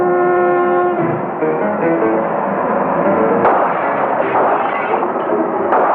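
Guns open fire in a battle scene from the 1966 film The She Beast, a loud, dense barrage of booming shots that follows a brief horn-like tone and rolls on continuously.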